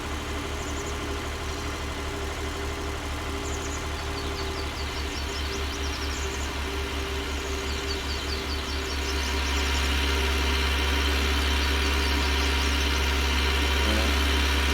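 A vehicle engine drones steadily as it pulls up a hill on a dairy farm, a low rumbling hum that swells louder and heavier partway through and then holds.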